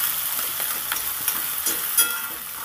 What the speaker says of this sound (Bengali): এবার সুন্দর করে লাল লাল করে পেঁয়াজগুলোকে ভেজে নেব।